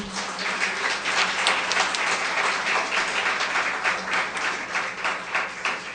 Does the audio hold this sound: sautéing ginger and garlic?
no